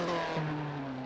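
A 2.2-litre rear-engined 1958 race car at Goodwood, its engine droning loud and close with a steady tone that dips in pitch partway through the short burst.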